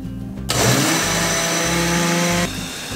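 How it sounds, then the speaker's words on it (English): A countertop blender whirs loud and steady for about two seconds as it purees soda crackers, chicken broth and milk, starting abruptly and cutting off cleanly, with a low motor hum before and after. "the soda crackers and chicken broth in there, in this blender."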